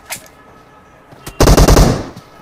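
A burst of rapid machine-gun fire in the mobile shooter game Hackers Ground, a loud run of about six closely spaced shots after a quieter stretch with a few faint clicks.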